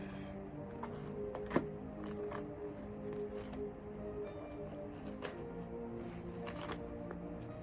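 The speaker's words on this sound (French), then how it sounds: "Nous allons ouvrir la Bible dans les Psaumes 34, le verset 19." Thin Bible pages being flipped and riffled while opening to the Psalms, a run of soft papery swishes and flutters with light taps, close and quiet, no speech.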